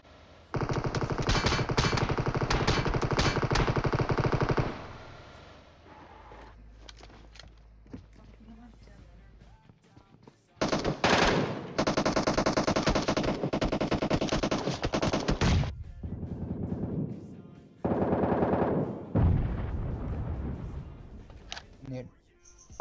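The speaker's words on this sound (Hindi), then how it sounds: "बंदा गोली चला रहा है" Bursts of automatic gunfire in PUBG, loud sustained volleys of several seconds each, separated by quieter gaps with scattered shots and in-game footsteps.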